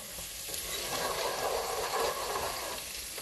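Food frying in a pan sizzles steadily and close by, a dense continuous crackle and hiss that swells slightly in the middle and holds for about three seconds, with no voices.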